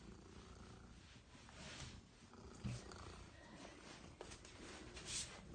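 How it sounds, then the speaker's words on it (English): A cat purrs after a bath: a faint, steady, low rumble that runs continuously, heard close and without talking. "Listen to that purr."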